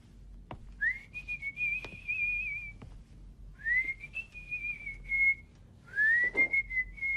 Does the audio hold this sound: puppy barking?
no